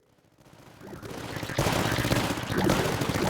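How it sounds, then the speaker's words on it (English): Rapid gunfire in the Tower Dominion video game mows down aerial units, swelling from quiet into a dense, sustained fusillade of close, overlapping shots. "Meanwhile, the aerials are getting gunned down."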